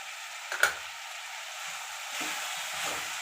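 Turmeric, chili and coriander powders are stirred into a bottle gourd and mango curry over a sizzling hiss, with a soft scrape near the start and a few faint clinks.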